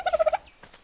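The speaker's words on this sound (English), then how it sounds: "You have a dodo." Dodo birds in the video game Ark give a quick, gobbling call of four or five rapid nasal pulses, close and fairly loud, followed by a softer trailing squawk.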